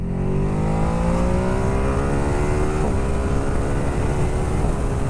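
Ducati Hypermotard 950 SP motorcycle accelerating hard on an open road at the national speed limit, a loud continuous engine roar climbing steeply in pitch with one quick gear change, close and alone.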